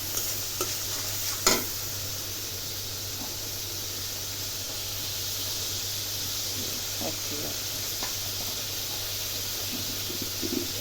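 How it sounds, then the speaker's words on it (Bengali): Fish sizzles in a pan with turmeric while it is stirred, a steady hiss of frying with a few scraping clicks near the start and later, as someone talks over it. "এখানে তো মাছ বসাইছি, মাছ রান্না করবো। পরিমাণ মতো হলুদ দিয়ে দিলাম"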